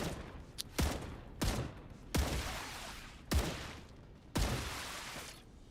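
Rifle shots in a sci-fi survival video game, five loud, sharp blasts spaced about a second apart, each with a short decaying tail, heard alone without talk.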